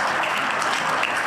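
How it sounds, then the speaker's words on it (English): A brief, dense burst of audience clapping at a state transportation commission meeting, steady and unbroken, with no talking. "let me give you a round of applause for our IT"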